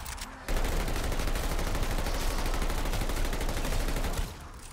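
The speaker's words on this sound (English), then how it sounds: "We got this dude shooting his fucking machine gun at me." Enemy machine gun fire in Call of Duty Vanguard Zombies: a continuous, loud burst of rapid automatic gunfire that hammers steadily for about four seconds, then cuts off.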